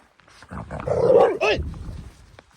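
A non-aggressive spaniel outdoors at night on a wild camping trip lets out a strange, drawn-out vocal sound, a low whining growl rising into a yelping bark near the end, close and moderately loud.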